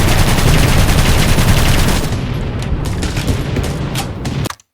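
Rapid machine gun fire from the aviation video game Aviators, loud and continuous bursts that thin into separate shots before cutting off abruptly.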